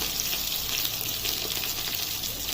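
Soya chunks fry in hot oil in a pan, a steady close sizzle with crackling bursts throughout.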